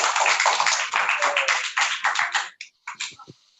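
Hand clapping at a conference, a dense burst of many claps that thins into a few separate near claps and stops.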